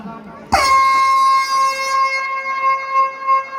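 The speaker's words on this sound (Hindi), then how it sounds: "कोटा के स्टेशन से बिलासपुर जाने के लिए ट्रेन निकल रही है लंबी सायरन के साथ में।" A long, loud air-horn blast signals the start of a village semifinal match. It kicks in abruptly and holds a steady blaring tone for about three seconds over faint background noise.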